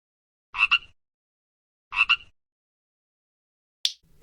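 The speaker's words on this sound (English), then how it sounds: "frog." A frog gives two short, rasping croaks about a second and a half apart, fairly close, with silence around them.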